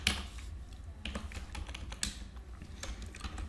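Keys clatter on a computer keyboard as shell script code is typed, in quick irregular bursts with short pauses, close and fairly quiet, with no voices.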